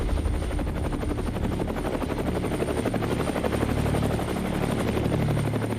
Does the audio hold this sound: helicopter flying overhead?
yes